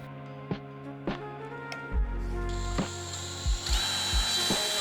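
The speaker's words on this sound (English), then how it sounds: "The last part is to drill the holes to connect the bracket to the roof rack." A power drill whirs steadily against steel, punctuated by several low thumps and a rising whine, with no voices, drilling holes for a roof rack bracket on a Porsche 944.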